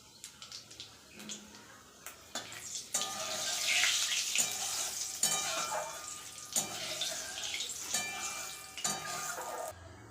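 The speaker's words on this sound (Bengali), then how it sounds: "কড়াইতে তেল দিয়ে দিয়েছি তেল কিন্তু গরম হয়ে গেছে এর মধ্যে আমি দিয়ে দেব শুকনো লঙ্কা আর পাঁচফোড়ন" Dried red chillies and panch phoron hit hot oil in a kadai, making a hissing, crackling sizzle that swells and then settles, with scattered sharp pops throughout.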